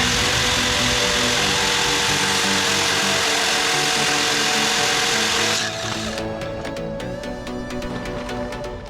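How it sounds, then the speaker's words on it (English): Angle grinder cutting down the center of a taped AN fuel line for a twin-engine MX3, a loud continuous high whine that drops away near the end into quieter clattering. "I'm gonna use a grinder and cut right down the center"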